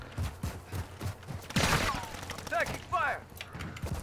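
Call of Duty Modern Warfare 3 team deathmatch on the Derail map, with a stream of fairly quiet, distant gunshots and a louder burst in the middle, heard under player voices.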